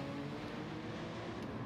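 Race car engines in Gran Turismo 7 at Fuji Speedway, one a Mitsubishi, hold a steady low droning hum with a faint roar that carries evenly throughout.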